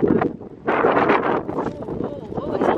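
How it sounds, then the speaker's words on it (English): Wind gusting outdoors at a house, with heavy buffeting rumble on the microphone in rising and falling surges, loud and close throughout. "Oh, it's windy."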